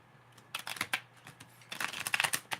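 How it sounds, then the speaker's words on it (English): Tarot cards being shuffled by hand, a burst of soft papery riffles and taps, then a quieter pause before a longer run of crisp, close card shuffling. "My deck won't even shuffle right."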